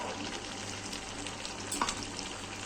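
Fried shrimp going into bottle gourd cooking in a pan, giving a steady, moderate sizzle and simmer throughout with a brief soft clink or splash near the end.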